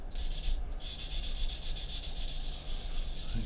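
Cloth rubbing steadily around the edges of an aircraft canopy during polishing, a continuous close scrubbing hiss with a faint rhythmic back-and-forth pulse throughout.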